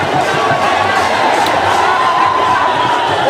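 A dense, loud crowd at a street protest in Prayagraj cheers and celebrates a resignation, with continuous roaring voices, shouts and chatter filling the whole stretch without a break.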